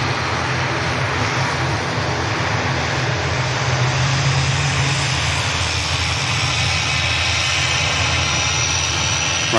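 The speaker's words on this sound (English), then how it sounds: "Ryanair is on the roll." A Ryanair jet airliner on its takeoff roll at Manchester Airport, a sustained loud engine roar with a rising whine, heard alone with no talk.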